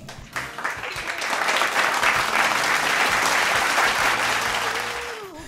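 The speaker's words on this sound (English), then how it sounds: "give yourself a round of applause for reaching this major milestone." A church congregation applauds reaching a worship center loan milestone, with applause swelling after a brief start into a broad, steady roar of clapping that holds and then eases slightly toward the end.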